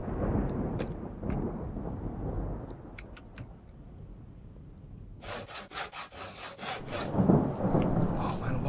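Wood being sawn during carpentry in the game Project Zomboid, a run of steady back-and-forth rasping strokes that gives way to sharp scraping hits, with low thunder and rain rumbling in the background.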